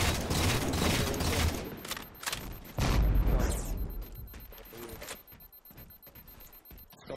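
Heavy bursts of gunfire and booming impacts in Halo 4 crowd the opening seconds, loud and overlapping, then thin out into scattered softer shots and mechanical clatter.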